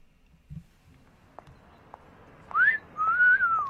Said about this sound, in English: Let's begin with, of course, the funniest joke. The wolf whistle.